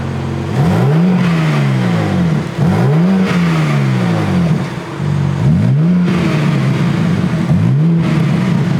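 Four throaty revs from a 2024 BMW M3 CS exhaust in comfort mode, each swelling and dropping back to a steady idle, loud and close with brief pauses between.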